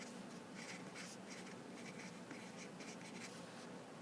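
A pen scratches across paper while marking a graph, in soft, continuous strokes with small rhythmic bursts, faint and close, with no talking.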